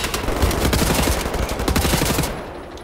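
Dual-wielded guns fire in Wolfenstein: The New Order, a dense, loud and continuous stream of rapid automatic shots that goes on for about two and a half seconds and then stops abruptly.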